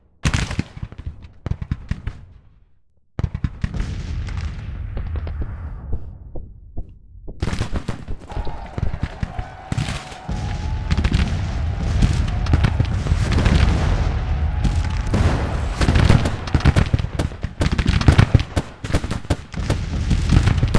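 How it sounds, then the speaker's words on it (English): Gatling gun fire in a Civil War battle video game, a dense chattering stream of rapid shots and booming bursts that runs continuously and loud after a brief lull, layered over the wider din of battle. "That's it's a Gatling gun."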